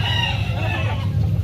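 A Hatch Grey game rooster clucks and gives a short crow nearby, loud and close for about a second and a half.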